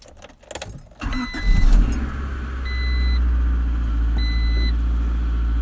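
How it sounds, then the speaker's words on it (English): A 1988 Honda CRX Si engine starts after a jingle of keys, then the cranking rises into a steady idle while a repeating electronic chime beeps several times nearby. "All right, let's start this up"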